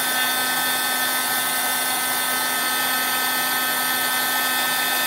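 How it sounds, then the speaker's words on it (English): Brand-new heat gun blowing steadily with a high, constant whine and airy hiss, a faint internal rattle within the unbroken drone, close and alone. "My heat gun's rattling inside."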